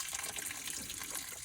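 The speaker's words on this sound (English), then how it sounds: "I know you're getting tired of watching me just pour water out of the cooling system." Water gushes out of the cooling system of a Jeep Wrangler YJ during a flush, a steady close-up splashing pour with a bright, frothy hiss and no talk.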